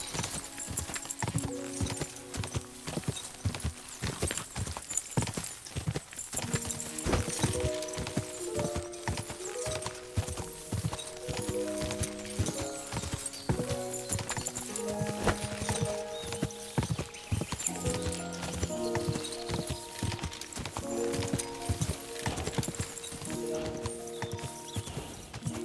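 A horse gallops in the video game Kingdom Come: Deliverance II, its hooves drumming in a fast steady rhythm throughout, with occasional snorts or whinnies and a musical score playing underneath.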